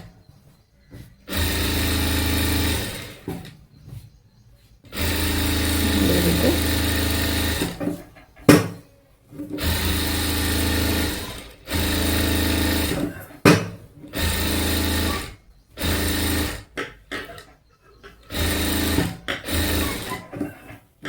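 A sewing machine stitches lining onto a work blouse in long whirring runs broken by short pauses, close and steady, while someone speaks quietly in between.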